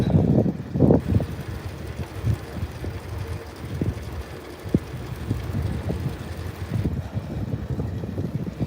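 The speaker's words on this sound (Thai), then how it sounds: "ลมแรง" Gusty wind buffets the microphone while riding a bicycle to work on a Monday morning, a steady rumbling roar with louder gusts near the start, with no talk.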